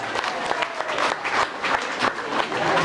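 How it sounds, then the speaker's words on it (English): Audience applause after an acted scene at a workshop event, a steady dense wash of clapping hands holding at even loudness for the full stretch, with no talk over it. "Let's give him a big round of applause."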